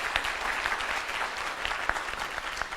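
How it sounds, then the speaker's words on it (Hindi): A crowd at a motivational talk gives loud, continuous applause, many hands clapping together in a steady, dense patter with occasional sharper claps, without a break for about three seconds. "मैं चाहूंगा जयमान जी के लिए जोरदार ताली होना चाहिए।"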